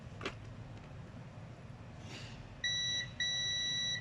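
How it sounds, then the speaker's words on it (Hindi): A multimeter in continuity mode tests a homemade high-power mobile charging cable and emits two loud, steady electronic beeps, one after the other with a brief gap, following a quiet stretch of faint handling noise. "यहाँ पे इसकी बीप आ रही है।"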